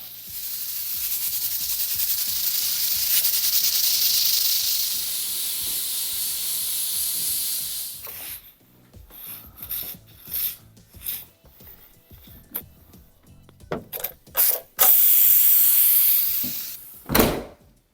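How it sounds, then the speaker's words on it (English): An Instant Pot pressure cooker vents steam with a loud, steady hiss for about eight seconds. Scattered clicks and knocks follow, then a final short burst of venting. "Oh, sometimes it's good to let off a bit of steam."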